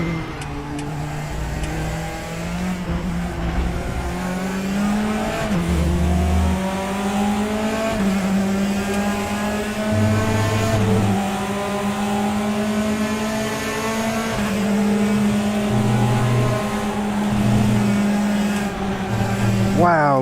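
Race car engines in the RaceRoom sim at Silverstone, a loud sustained roar climbing and dropping through gear changes, with other cars around and occasional tyre noise, plus a voice talking over it.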